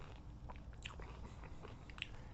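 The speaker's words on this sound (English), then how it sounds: "Chewing these is unpleasant." Dried Japanese crabs (tamagogani) being chewed up close, with quiet crunching and biting sounds spread across the clip and a sharper crunch near the end.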